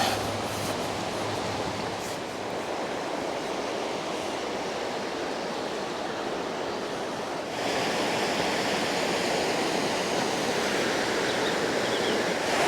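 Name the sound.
River Tees flowing water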